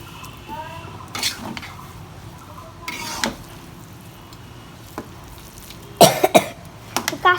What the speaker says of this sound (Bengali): কাশি হয়েছে।